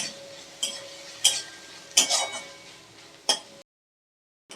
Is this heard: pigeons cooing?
no